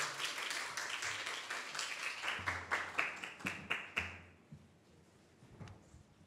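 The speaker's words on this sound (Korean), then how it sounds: "뜨거운 박수 부탁드리겠습니다." A fairly quiet audience claps to welcome performers back onto the stage at a K-pop chart announcement event. The applause thins into a few scattered separate claps before falling quiet.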